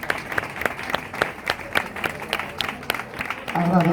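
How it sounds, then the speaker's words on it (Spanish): Awards ceremony audience at a neighbourhood balcony-decoration prize giving breaks into applause, with scattered claps at first that swell into fuller clapping near the end, mixed with some crowd voices. "un aplauso"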